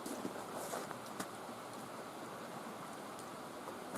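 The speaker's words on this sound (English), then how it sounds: "But it's still raining, man, for 24 hours." Steady rain hiss fills the background, a constant wash of falling water with scattered faint drop ticks, fairly quiet and even throughout.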